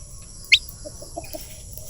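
Rhode Island Red chicken on a small farm, a single sharp high chirp followed by a few soft low clucks, close and fairly faint over quiet background hum.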